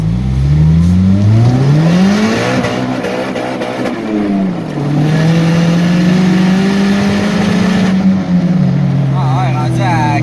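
A Nissan Silvia engine under repair revs up to about 4000 rpm, the loud whine rising, dipping, then climbing and holding steady before falling off, close and continuous with no talk.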